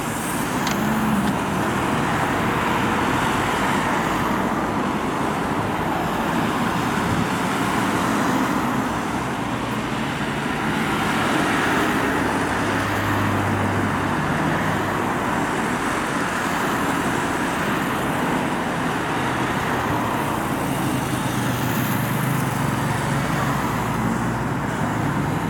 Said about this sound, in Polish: Jeżdżą samochody, autobusów na ten czas nie widać